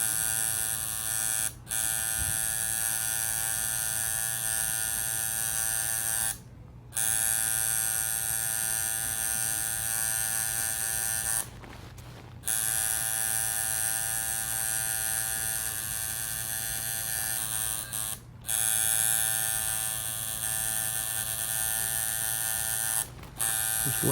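A tattoo outliner machine buzzes steadily and up close while working texture into a portrait, its drone broken by a few brief pauses.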